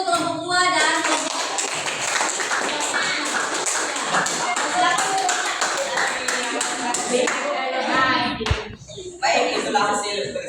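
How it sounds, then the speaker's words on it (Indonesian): Classroom applause from students for a presenting group during a school lesson, a loud, sustained burst of many hands clapping together, steady for about eight seconds before tapering, with children's voices and a chuckle mixed in. "beri aplaus dulu untuk kelompok dua"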